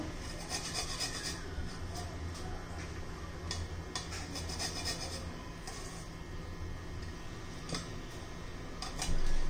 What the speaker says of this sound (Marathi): थोडंसं असं आपण लसूण किसून घेणार आहोत